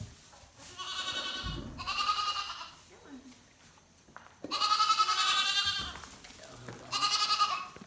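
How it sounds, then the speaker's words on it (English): Goats bleating in a farm pen at morning milking time, several long loud wavering calls close by, separated by quieter gaps with soft shuffling. "And we've got Maggie over here with the mountain goat"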